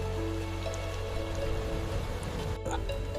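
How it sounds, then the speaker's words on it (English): Heavy rain falls in a steady, close, dense patter of drops striking a surface, with a continuous low rumble underneath and no voices. "heavy rainfall will begin within seconds"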